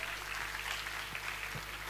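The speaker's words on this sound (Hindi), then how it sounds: "एक बार जोरदार तालियां बजाएं" Faint, distant applause from an audience at a product launch during the first-anniversary celebration of Ramaera Industries in Patna, a soft, even wash of clapping.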